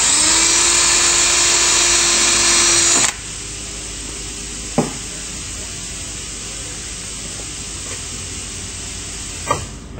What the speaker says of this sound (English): Go ahead and drill that hole.